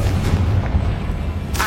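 Confringo blasting spell detonating in a wizarding video game: a heavy, artillery-like boom with a deep rumbling body, sustained and loud throughout, followed by a brighter crackling burst at the very end.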